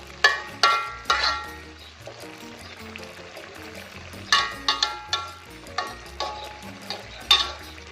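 Eggplant with pork stir-fries in a pan. A spatula scrapes and clatters in irregular bursts over a steady sizzle, close and fairly loud.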